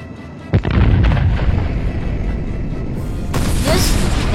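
Heavy naval gunfire in a World of Warships-style naval battle against the battleship Nevada: a loud booming salvo impact followed by sustained rumbling, then a second burst of blasts, with no talking.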